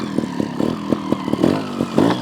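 A GasGas TXT 300 trials motorcycle engine idling and blipping on a backyard obstacle course, its loud, close thudding pulses rising and falling in short irregular revs.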